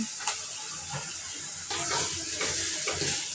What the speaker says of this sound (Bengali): মশলাটা কষাবো